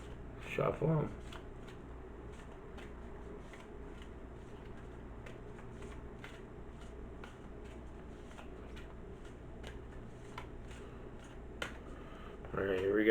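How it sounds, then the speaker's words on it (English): Tarot cards being shuffled by hand, a soft steady riffling and sliding of the deck with light taps, bracketed by short bursts of close speech at the start and end. "Shuffle them."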